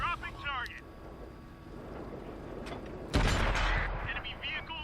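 A tank cannon in World of Tanks fires on the move, one sudden loud boom that lands after a stretch of engine rumble, while someone speaks briefly at the start.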